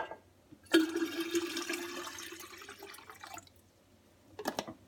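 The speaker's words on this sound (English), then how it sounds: "I add the cold water." Cold filtered water from a cooler pours into a container, a sudden splashing gush that fills and rings for a couple of seconds before tapering off, followed by brief drips and sloshing.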